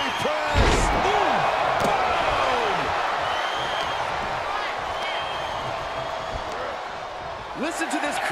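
A military press slam in WWE 2K23 at a Royal Rumble: a heavy impact thud near the start and another near the end, set against a steady, loud arena crowd roar with commentary over it.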